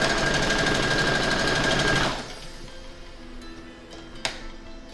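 A sewing machine stitches a quilt block for a pixelated Halloween bat quilt, running loud and steady for about two seconds before stopping, then quieter handling noises follow.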